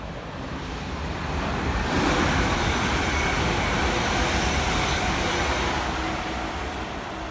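A train rushes through Mill Hill Broadway station on the Midland Main Line, a broad, steady roar that swells after a couple of seconds and holds, close by and without any voices.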